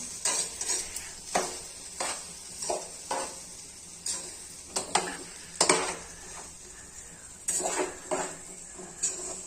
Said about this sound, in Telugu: మొత్తం కలబెట్టుకోవాలి మంచిగా